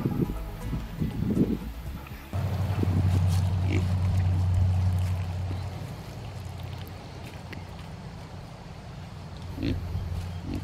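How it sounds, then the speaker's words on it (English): Low grunting and snuffling from pigs rumbles nearby, strongest early on, with people talking and a steady background hum. "Always hungry, the pigs are."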